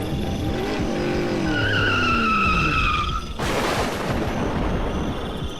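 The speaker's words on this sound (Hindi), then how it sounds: "तभी गाड़ी का संतुलन बिगड़ा और वो एक पेड़ से जा टकराई।" A car skids and slams into a tree: a long tire squeal with tonal screeching, then a sudden broadband crash at about three and a half seconds, followed by sustained loud rumbling noise, with no talking.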